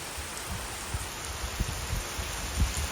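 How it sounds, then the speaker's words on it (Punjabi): Heavy monsoon rain pours steadily in wind-driven showers, a dense hiss with scattered louder drops and gusts, with no voices. "ਪੂਰਾ ਐਨ ਬਾਛੜ ਵਾਲਾ ਮੀਂਹ ਪੈ ਰਿਹਾ ਨਾ"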